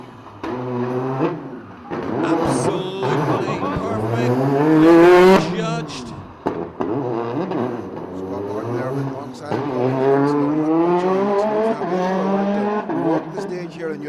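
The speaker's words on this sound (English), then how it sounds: "listen to this Peugeot factory car climb the hills" A Peugeot factory rally car engine revs hard climbing a hill on a special stage, rising in pitch, dropping between gear changes, loud and close, pulling away and surging again.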